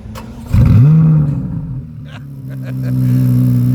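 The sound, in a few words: sports car engine revving loudly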